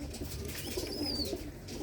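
Pigeons of a prized Punjabi breed line, with yellowish markings, coo softly alongside other faint calls against steady background noise, with no voices.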